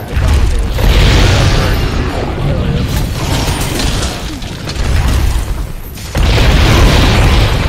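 Mines explode in a video game in a string of loud, heavy booms, with deep rumbling bursts that swell and fade across the stretch alongside mechanical clatter, and a fresh blast hits near the end.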